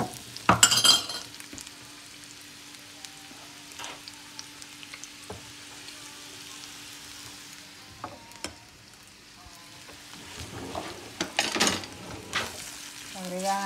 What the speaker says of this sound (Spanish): aquí tengo pimentón verde, rojo y amarillo y cebolla. Esto lo agregan acá.